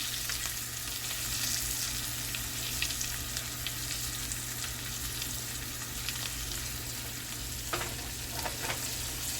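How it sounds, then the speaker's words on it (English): Swai fish frying in butter in a tilted pan while being basted, a continuous dense sizzle throughout, close and even, with faint clicks of the spoon and no talk. "just baste your fish"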